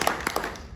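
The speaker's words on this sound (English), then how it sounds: "I heard somebody applaud" An audience member applauding at a political campaign event for Nan Whaley for Ohio, a brief burst of a few sharp hand claps close by, quick and uneven.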